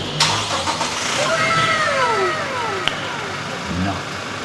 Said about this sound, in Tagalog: na-start ko na yung makina